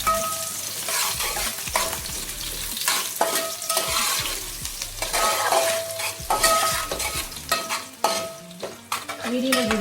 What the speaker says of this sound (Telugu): ఆనియన్స్ బాగా ఫ్రై అవ్వాలండి.